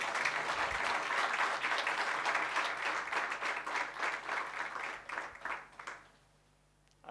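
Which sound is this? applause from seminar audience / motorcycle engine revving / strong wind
applause from seminar audience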